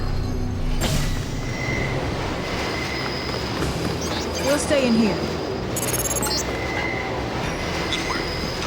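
A train in the video game Deus Ex rumbles steadily in the foreground with faint metallic squeals and clanks, while characters speak over the running noise.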